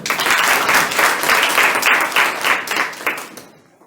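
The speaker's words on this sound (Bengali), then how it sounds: "এদের জন্য একটা করতালি হোক।" An audience at a network marketing seminar claps, giving a loud, dense burst of applause that holds steady for about three seconds and then fades quickly to quiet.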